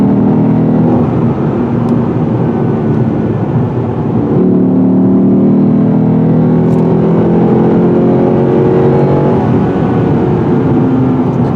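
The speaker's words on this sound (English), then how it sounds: "There's nothing like the sound of a nice V8 to lighten up your day." A Lexus V8 engine, from a GS-F or RC-F, pulls steadily while driving along a country road, a loud continuous growl with rising and falling pitch as it revs, heard from inside the car.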